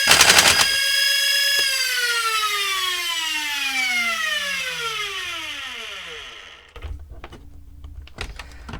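A modified MA40 toy dart blaster fires on full auto, a rapid mechanical burst with a motor whine that winds down over several seconds, close and loud, followed by a few brief clicks and handling sounds.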